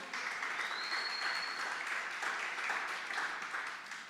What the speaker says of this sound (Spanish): Un aplauso por ellos